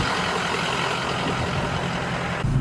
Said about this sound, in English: we're setting off now in the lifted F250